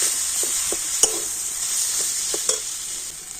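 Boiled potatoes are stirred into spices frying in a pan, giving a steady bright sizzle close by with a few soft scraping strokes of the spoon at irregular intervals.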